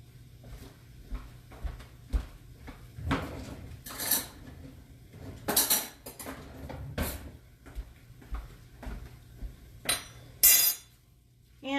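A spoon stirs scrambled eggs in a bowl after the heat is turned off, with irregular clinks and scrapes at varying loudness, some sharp knocks against the bowl, over a quiet low hum.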